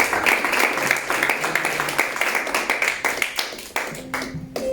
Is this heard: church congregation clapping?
yes